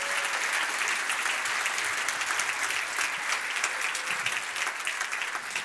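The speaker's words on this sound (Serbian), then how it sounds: "dajmo jedan aplauz za preduzetnice" A conference audience applauds women entrepreneurs with dense, sustained clapping that holds steady for several seconds, filling the room with no speech over it.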